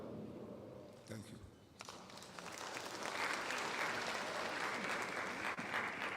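A hall of people clap at an induction ceremony for newly qualified physician assistants in Ghana. The applause starts sparse with a few claps and shuffling, then swells into loud, sustained clapping from a large crowd.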